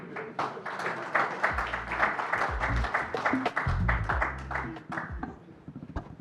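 Audience applause welcoming the president of the FCP to the stage at a forum closing session, moderate clapping over about six seconds with some voices and low thumps mixed in.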